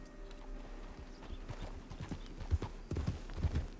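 Horse hooves clip-clop at a steady riding pace in Red Dead Redemption 2, close and moderately loud, with the hoofbeats growing heavier toward the end over a low ambient game background.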